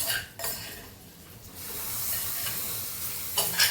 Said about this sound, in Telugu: చట్నీ తాలింపు వేస్తాను.